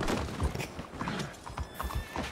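A horse on a Western ranch in a roleplay video game whinnies while hooves clip-clop in an uneven run of beats, fairly quiet and close, with no talk.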